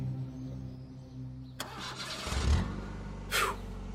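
A car engine cranks and catches after a pause, a sudden rising start that settles into a low idle with a brief rev, close and fairly loud over a humming background.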